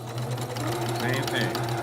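A sewing machine runs steadily, back stitching a quilt in a short burst of continuous mechanical whirring, with someone talking over the machine.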